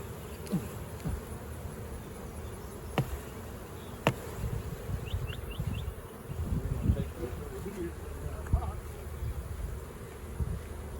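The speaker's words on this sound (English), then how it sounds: "So we're going to shake the bees off." Honey bees buzz steadily outdoors around a hive, a dense close hum with a few sharper clicks and light wind noise around it.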